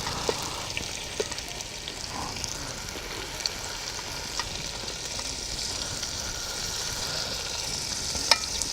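Chopped tomatoes frying in a pan with homemade garam masala of cumin, cardamom, cloves, cinnamon and poppy seeds, a steady close sizzle with occasional stirring clicks.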